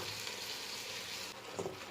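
Vegetable sauce sautéing with sugar in a pan for a vegetarian lasagna, a quiet, steady sizzle with a soft stir near the end, no voices.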